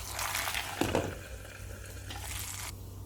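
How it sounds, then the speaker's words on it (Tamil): Cinnamon, fennel seeds and curry leaves hit hot oil for a Chettinad tomato soup tempering, giving a sudden sharp crackle followed by a steady, fairly close sizzle that fades slightly. "பட்டை, சோம்பு, கருவேப்பிலை கொட்டிட்டு உடனே மூடிடணும்."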